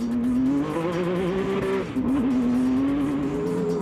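A buggy engine held at full throttle through a left-hand corner, a sustained loud buzzing drone that dips briefly and then climbs again, with tire noise underneath.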